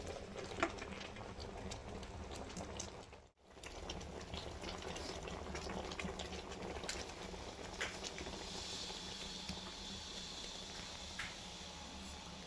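Sweet syrup boiling in a pot for homemade sweets, giving a steady, close bubbling and crackling hiss that runs on without a break and with no talking.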